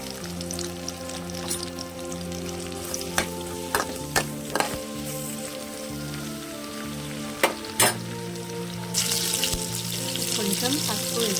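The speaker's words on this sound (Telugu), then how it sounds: "పచ్చిమిర్చి ఉల్లిగడ్డ ముక్కలు యాడ్ చేస్తున్నానండి." Green chilies and onion pieces fry in hot oil with a steady close sizzle over a low hum, punctuated by several sharp clanks of a spoon against the pan and a louder hiss near the end.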